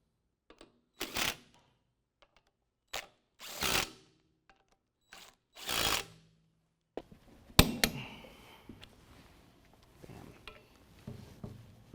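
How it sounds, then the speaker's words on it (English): A power tool drives 18mm hub bolts during a lift kit install on a 2017 Ford F-150 4WD. Three short, loud whirring bursts are separated by pauses, followed by ratcheting clicks and metallic clatter up close. "we're going to tighten our 4 18mm hub bolts to 148 foot-pounds"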